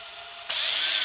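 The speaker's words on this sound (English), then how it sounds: "I can just drill my hole through that" A power drill spins up and bores a hole through thin cigar box wood for a homemade cigar box guitar, starting abruptly midway and holding a steady, close, loud whine without talk.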